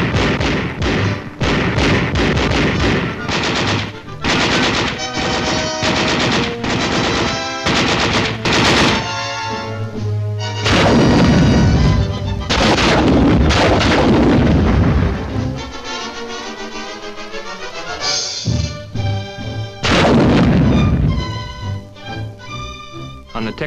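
Small arms and crew-served weapons fire during West Point summer infantry training: dense, loud, overlapping bursts of machine-gun and rifle fire with heavy booming reports, nearly continuous for the whole stretch.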